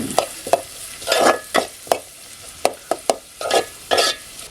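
Onions browning in a pan over a wood-fired stove for a leafy vegetable dish, stirred in quick bursts of scraping and sizzling strokes, close-up, about a dozen strokes with brief pauses between, no voices.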